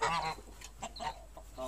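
Geese honk in a series of loud, close calls at a lakeside, a strong burst at the start followed by shorter scattered honks and another call at the end, with no talking.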